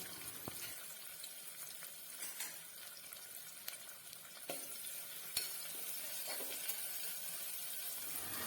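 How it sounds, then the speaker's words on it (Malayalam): Onion sautéing in hot coconut oil inside a pressure cooker for Kerala-style kadala curry, a steady close sizzle and crackle broken by occasional sharp stirring scrapes and clicks, with no voices. "വലിയ ഉള്ളി അതിലേക്ക് ഇട്ടിട്ട് നന്നായിട്ടൊന്ന് വഴറ്റി എടുക്കാം."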